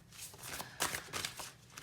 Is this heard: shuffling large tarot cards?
yes